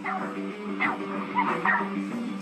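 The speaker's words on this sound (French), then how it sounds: "Car, pourquoi tu aboies?" Car, a hyperactive, dominant dog with serious behaviour problems, gives a few close yipping barks and whimpers over a steady tonal background hum lasting the whole stretch.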